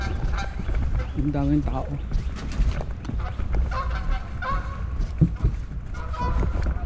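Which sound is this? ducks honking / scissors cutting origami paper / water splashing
ducks honking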